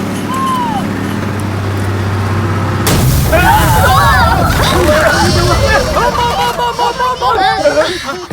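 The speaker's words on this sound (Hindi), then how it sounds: "बस का टायर है। बस को भी यही पंक्चर होना था।" A bus tyre bursts with a sudden loud bang, followed by a burst of noisy clatter and shouting voices, with music and speech continuing over the commotion.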